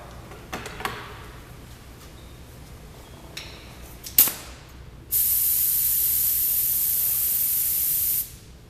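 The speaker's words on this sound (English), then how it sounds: "I am so excited to officially be spraying the chrome on this car" A spray gun applying removable chrome paint to a car gives a steady, loud hiss from about five to eight seconds, cutting off abruptly, preceded by a few sharp clicks and a brief burst.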